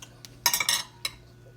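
A metal utensil chops through tender pulled pork cooked in an Instant Pot, making a short burst of close clinks and scrapes against the pot, then a single sharp tap.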